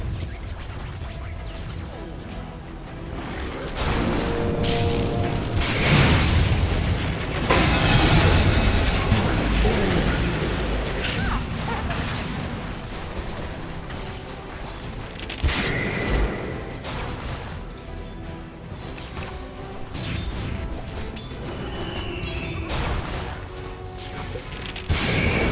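Dota 2 match audio with towers under attack and collapsing: dense, continuous crashing impacts, whooshes and explosive bursts at steady loudness throughout, with a spoken announcer voice over the battle.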